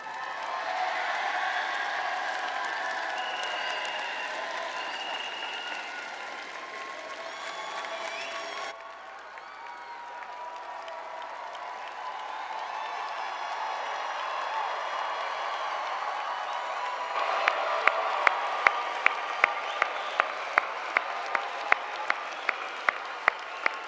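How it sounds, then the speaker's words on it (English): Sustained applause from a large crowd fills a college commencement ceremony, with a brief dip midway before the clapping swells again and sharp individual claps ring out near the end. "Another round of applause for our graduates."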